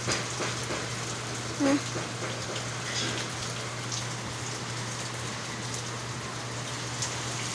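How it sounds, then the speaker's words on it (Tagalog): Heavy typhoon rain beats on an umbrella in a dense, steady hiss of close drops, continuous and even throughout with a low hum underneath. "Ulan yun ba? Kawa yun sa payong."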